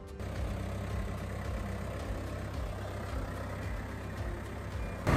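A tractor engine runs steadily at a horse show, a continuous loud low rumble with an even idling throb throughout and no voices.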